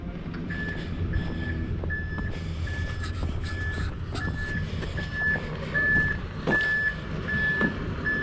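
A concrete truck backs up at a line-pumping job, its reverse alarm sounding a regular series of evenly spaced beeps over a low diesel rumble and scattered clanks.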